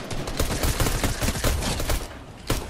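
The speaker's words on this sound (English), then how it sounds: "Oh, you have a pistol. That's what I'm hearing." Pistol gunshots in a split-screen video game, a rapid string of sharp cracks fired close and loud, followed by one more isolated shot near the end.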